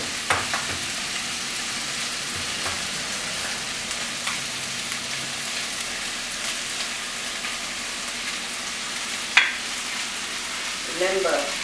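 Egg and rice fry in a wok for fried rice, a constant dense sizzle with occasional scraping and clanking of the spatula, ending in a short burst of stirring.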